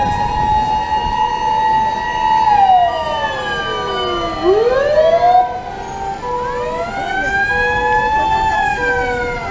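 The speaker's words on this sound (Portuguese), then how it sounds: "Quatro viaturas de bombeiro, uma ambulância. Vindo mais bombeiro lá embaixo ainda." Fire engine sirens wail and sweep up and down, loud and close, as several fire trucks and an ambulance arrive at an emergency scene in Japan, overlapping tones rising and falling throughout.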